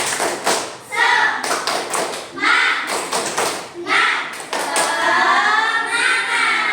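A classroom group performs a rhythmic clapping routine as an icebreaker before a lesson, with bursts of patterned claps and thumps mixed with loud chanting voices throughout.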